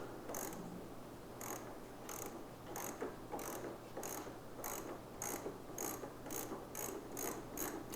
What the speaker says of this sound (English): it's easy enough with the 3/8" drive ratchet just to pull these bolts out